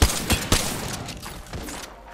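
Gunfire from a gun in a video game: three sharp, punchy shots in quick succession, followed by a few softer, more distant-sounding reports fading over about two seconds.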